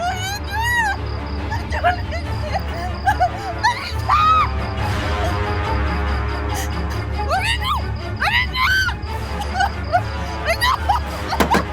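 A woman screaming during a tense domestic confrontation, with several bursts of high, wavering shrieks that rise and fall, set over a low droning music bed and background commotion.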